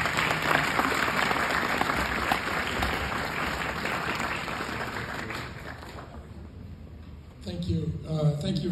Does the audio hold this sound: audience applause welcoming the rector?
yes